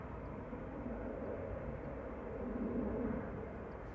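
An SAS airliner from Copenhagen arriving on runway 05 right at Manchester Airport makes a steady distant jet roar that swells slightly toward the end, with no speech over it.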